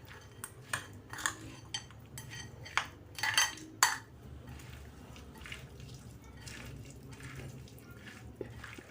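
A spoon mixes panchamritham with honey and ghee in a bowl, making a run of light clinks and scrapes that are busy at first and then soften into quieter stirring.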